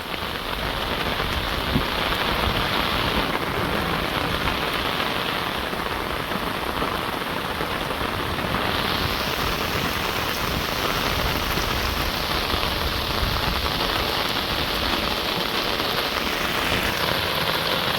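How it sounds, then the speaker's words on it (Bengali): Heavy, steady rain pours down continuously on a Bangladeshi village, a dense wash of hiss and patter with no voices, constant in loudness throughout. "সেই সুন্দর বৃষ্টি নামছে।"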